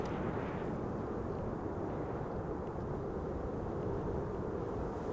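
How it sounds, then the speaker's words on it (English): An Embraer 195 E2 jet arrives at Amsterdam Schiphol airport on a frosty, sunny day, its engines a steady, broad, rumbling roar that stays loud and unbroken throughout, with no voices. "E2 Embraer 195 arriving from Bergen in the foreground"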